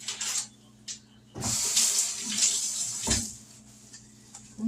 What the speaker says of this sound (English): And the celery. Let me rinse it out.